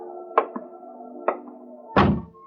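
A door creaks and thumps open in an old detective radio drama, with a few sharp knocks and a louder wooden clunk near the end over a steady low hum.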